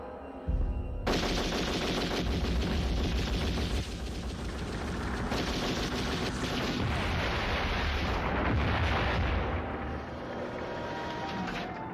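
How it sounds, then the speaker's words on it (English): Computer-generated explosions from an X-Files special effects shot fill the sound with a dense, continuous roar of booms and rumbling blasts. It stays loud and sustained throughout, with no speech. "we needed some explosions to work in the shot"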